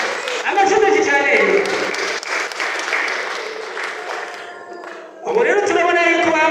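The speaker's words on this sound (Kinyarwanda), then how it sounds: "amashyi menshi cyane" A crowd applauds loudly at a Kirundi stylistics event in Gitega, steady clapping that dips briefly before surging back even stronger near the end, with voices mixed into the noise.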